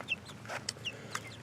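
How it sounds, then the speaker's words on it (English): Six-week-old chickens cluck and peep in a flock that includes young roosters, with several short, separate calls close by over a quiet background. "That fella right there is obviously a rooster."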